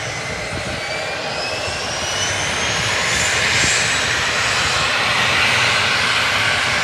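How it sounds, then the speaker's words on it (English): A jet airplane engine roars steadily at Kushiro Airport in Hokkaido, loud and close, with a rising whine building over several seconds and no talking. "That's a jet!"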